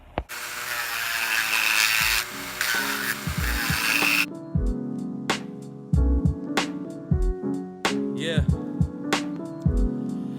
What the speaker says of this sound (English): My boy Fob has a Dremel. He's gonna cut the inside out so I can fit the switch in there